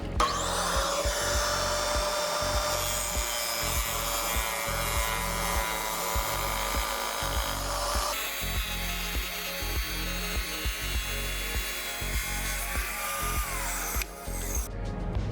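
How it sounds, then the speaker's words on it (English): A Diamondback 10-inch wet tile saw cross cuts hard porcelain tile, giving a loud, steady high-pitched grinding whine over the motor hum that shifts in tone partway through and cuts off near the end, with no talking. "Here is our hard porcelain. Let's cross cut it and miter it."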